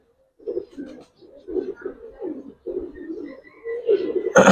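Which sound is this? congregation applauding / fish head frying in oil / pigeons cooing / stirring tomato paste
pigeons cooing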